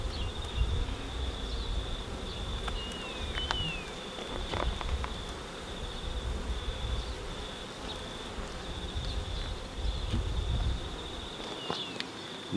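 Honeybees buzz in an opened beehive during a winter inspection, a dense steady hum close by with a few individual bees whining past, continuous and loud throughout.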